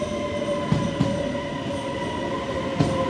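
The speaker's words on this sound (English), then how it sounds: "Here's the train." A train rumbles steadily nearby, wheels clacking over rail joints a few times, with a faint high squeal running throughout.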